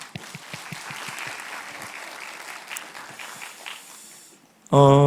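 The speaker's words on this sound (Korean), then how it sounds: "우리 한번 격려의 박수 한번 하십시다." A church congregation claps steadily for several seconds during a Sunday service, dense and even, then the applause stops and a tone breaks in abruptly at the end.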